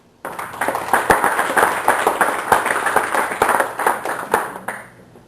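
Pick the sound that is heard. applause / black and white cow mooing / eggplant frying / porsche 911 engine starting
applause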